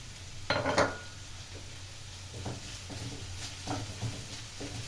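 Kapya red pepper being stirred and sautéed in a pan, with a few faint utensil scrapes and clinks over a low, steady background hum and no talking.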